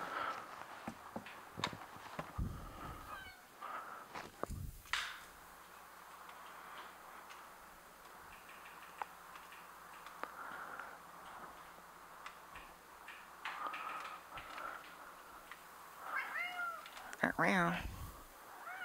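A cat meows indoors in a workshop room with a tripod, a brief, fairly close call near the end, with light ticking and clicking around it and a person talking at times.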